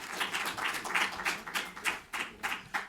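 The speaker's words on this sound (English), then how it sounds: "A round of applause for him, please." Audience members at a cocoa finance and investment forum in London applaud, producing quiet, scattered overlapping claps heard at a distance from within the hall.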